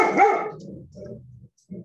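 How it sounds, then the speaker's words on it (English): A dog barks once close by in a short growly burst, then gives a couple of softer, lower follow-up grumbles with a brief pause between them. "Dogs barking, cat trying to get past me, or at least also."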